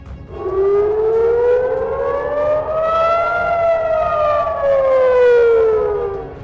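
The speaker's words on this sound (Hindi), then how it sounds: "हर जानिब सायरन की आवाजें सुनाई दी गयीं" A loud air raid siren in Israel wails steadily, its tone rising slowly then falling again in one long sustained sweep, with no voices.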